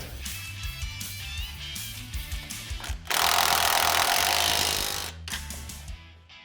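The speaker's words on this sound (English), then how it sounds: "now we're gonna fully tighten our differential bolt here" A ratchet or power tool tightens a 16 mm differential bolt with a 19 mm nut on a Polaris RZR Pro XP, with clicking and clanking mechanical handling, then a loud sustained buzzing burst of about two seconds, close up.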